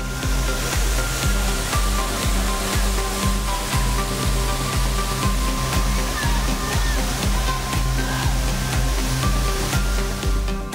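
A steady, loud rush of falling water fills the whole clip without pause, a constant roar from the nearby Anachadikuthu waterfall near Thodupuzha, Kerala.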